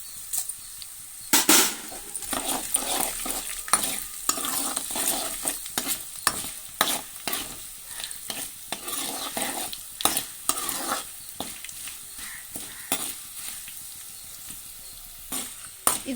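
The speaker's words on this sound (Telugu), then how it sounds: "ఇలా వేగిన తర్వాత ఇప్పుడు ఎండుమిర్చి వేసుకుందాం" Tempering spices and dried red chillies fry in hot oil, a continuous sizzle broken by frequent sharp clicks and scrapes of a spoon stirring in the pan.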